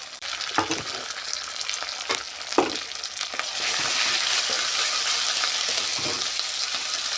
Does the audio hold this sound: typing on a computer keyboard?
no